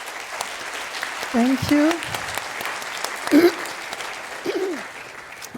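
Conference audience applause at the 38C3 congress welcomes two speakers to the stage. The clapping comes in short bursts under a host speaking and saying thanks.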